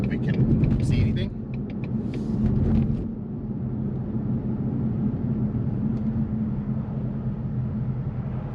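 A car drives on public roads around the Las Vegas Formula 1 street course, its steady low road and engine rumble continuous and fairly loud throughout, with a brief brighter burst of noise early on.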